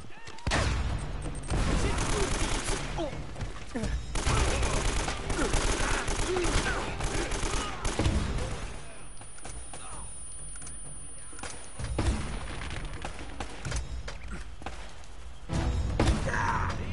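Gunfire from the video game Uncharted crackles in bursts and volleys, with thuds and impacts coming and going across the scene, while a player's voice is heard now and then.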